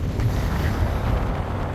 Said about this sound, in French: le vent, ça me gavait